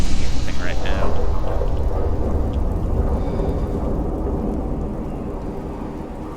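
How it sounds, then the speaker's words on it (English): A video game thunderstorm roars with heavy rain and a loud, rumbling thunder roll that slowly fades, dense and close throughout. "This storm is awful."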